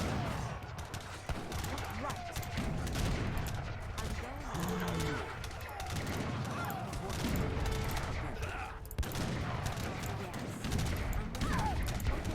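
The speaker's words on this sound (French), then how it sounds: "Ah, des canons!" Rapid bursts of game gunfire and booming cannon shots crackle through a chaotic battle, with voices and effects layered underneath.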